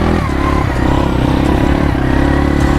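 A motorcycle rides off-road over hard sand, its engine a steady, close, loud drone with rattling clatter running through it and no break.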